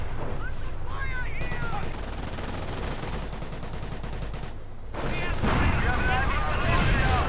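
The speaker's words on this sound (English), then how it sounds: "Mines going off, killing Brits." Explosions and gunfire crackle through a war strategy video game battle, with dense rapid bursts and booms that fall briefly quiet before growing louder again, and speech mixed in.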